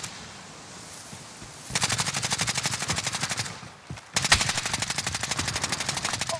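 Two long bursts of rapid automatic gunfire in a video game, a fast even rattle of shots that stops briefly and resumes, loud and close with no talking.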